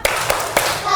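A primary school class claps the tepuk gotong royong chant: three crisp, evenly spaced hand claps, loud and close, with children's voices between them.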